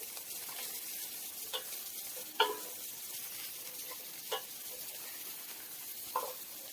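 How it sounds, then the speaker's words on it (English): Carrots, onions and celery sizzle and caramelize in a pan while cooking brisket, a soft steady frying hiss broken by occasional light scrapes and stirs of a utensil. "Carrots, onions, celery into the pan. And we're going to caramelize those."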